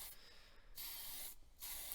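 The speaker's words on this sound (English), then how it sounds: "Shake up the can and spray on the primer." Tamiya Fine Surface Primer grey sprayed from an aerosol can in two bursts of steady hissing separated by short pauses, faint and close with no voices.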